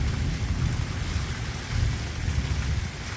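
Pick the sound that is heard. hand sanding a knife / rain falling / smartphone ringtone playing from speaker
rain falling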